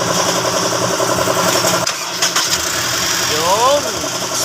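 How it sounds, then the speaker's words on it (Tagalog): A Honda CR-V engine turns over and catches, then settles into a steady idle, heard up close with someone talking over it. "Yan, pa-start na natin yung engine para matras."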